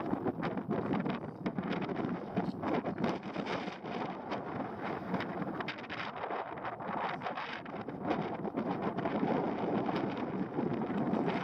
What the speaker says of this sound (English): It's a little windy. Sorry about the noise.